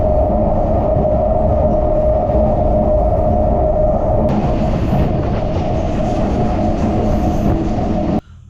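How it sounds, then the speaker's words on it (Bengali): A train pulls into a station on the way to Arambagh on a rainy day, its loud, steady rumble and rattling wheels filling the whole stretch without pause before cutting off at the end. "আর এখন এই ট্রেন ঢুকলো"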